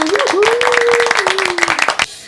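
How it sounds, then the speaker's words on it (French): A burst of rapid hand clapping, close and fairly loud, runs for about two seconds alongside a sustained vocal tone, then cuts off abruptly. "un tonnerre d'applaudissements"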